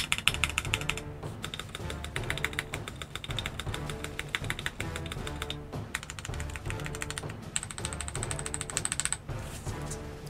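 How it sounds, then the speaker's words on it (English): Stock keys being typed on a HexGears Soda 68, a 65% mechanical keyboard, giving a steady stream of close, crisp clicky keystrokes with short pauses throughout, heard alone without talk. "So I'm actually pleasantly surprised at how these keys sound stock."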